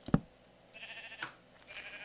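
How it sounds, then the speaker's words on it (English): Sheep bleat in the RFTW2 video game: one sharp, loud bleat at the start, then a few fainter, wavering bleats trail off at a moderate distance, with no talking. "next to the sheep sounds"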